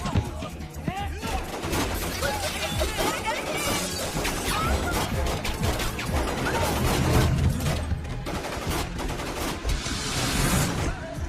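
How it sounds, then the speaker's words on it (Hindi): Gunfire in a Bollywood action movie scene, with dense, continuous loud bursts and crashes throughout, mixed under shouting voices and dramatic film sound. "अरे चला गोली।"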